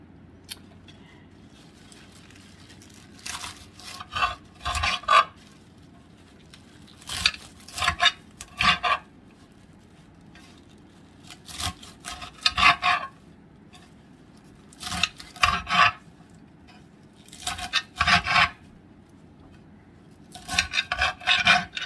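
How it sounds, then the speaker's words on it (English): Knife chopping fresh kale leaves with their stems on a cutting board: repeated bursts of quick cutting strokes in clusters separated by short pauses, close and moderately loud, with no talking. "chopping this up into smaller pieces."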